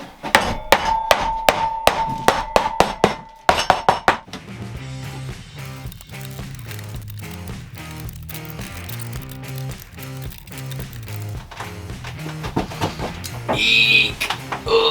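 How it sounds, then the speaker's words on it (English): A hammer strikes glued plywood in a quick burst of sharp, close, ringing blows, then gives way to quieter shuffling and tapping with a few bright clinks toward the end. "And hammer."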